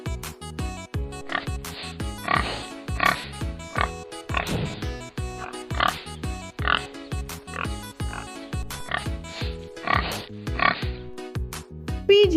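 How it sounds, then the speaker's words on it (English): Domestic pig giving repeated grunting oinks in an even rhythm over a patterned musical backing, fairly loud and close. "pig,"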